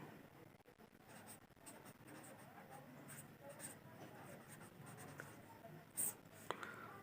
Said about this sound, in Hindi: यहाँ पे थोड़ा लिखना पड़ता है